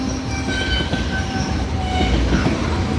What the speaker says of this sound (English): Oh, train's going emergency.